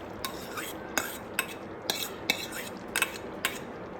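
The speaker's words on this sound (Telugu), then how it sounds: "ఇప్పుడు మనము ఫ్రై చేసి పెట్టుకున్న మష్రూమ్ ఉంది కదా, అదంతా వేసేసుకోండి." A metal spoon clinks and scrapes against a cooking pan as fried mushrooms are stirred into a thick masala gravy, about a dozen sharp, close taps in an uneven rhythm over quiet background.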